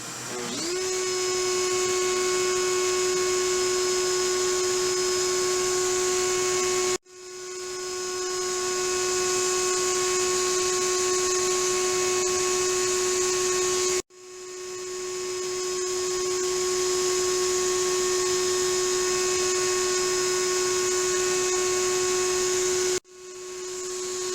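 Router bit spinning up and cutting a guitar pickguard, a loud steady high whine that restarts three times, each time with a sharp cutoff and then a rising surge back to full speed.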